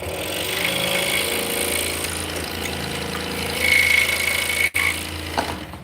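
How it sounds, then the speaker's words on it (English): A saw run from a foot pedal in a workshop, blade recently loosened, gives a steady loud mechanical drone with a brief high whine near the end and a sudden cut-off before it restarts. "So I am running my saw off a foot pedal."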